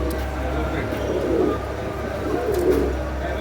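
Pigeons cooing at a seller's pigeon stall, a pair of soft low coos rising and fading under steady background noise, fairly close.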